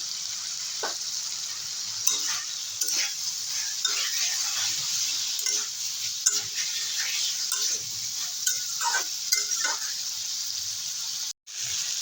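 Fish curry with green chili paste sautés in a pan, holding a steady sizzle throughout with irregular scrapes and taps of stirring. Near the end the sound breaks off for a moment.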